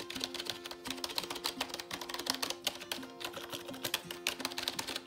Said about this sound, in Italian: Ok, tipico suono delle tastiere a membrana.